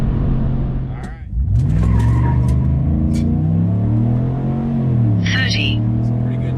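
Car tires spin and squeal on a hard launch from a standstill as the engine revs up through the gears. The sound is loud and close, with a rising and falling engine note under short bursts of tire noise.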